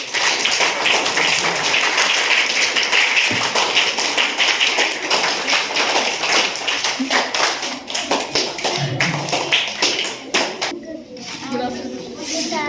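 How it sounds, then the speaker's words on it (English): Applause from an audience at a school National Science Day celebration, a dense, sustained patter of many hands clapping throughout, with a few voices and sparse sounds emerging as it thins near the end. "Give big claps."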